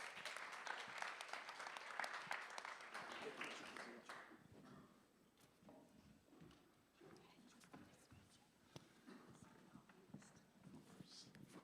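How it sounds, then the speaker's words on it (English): A conference audience at a panel session on AI in bedside monitoring gives a panelist a round of applause. The clapping is faint and distant, fades after about four seconds, and leaves soft scattered taps and murmurs. "Please give a round of applause for her."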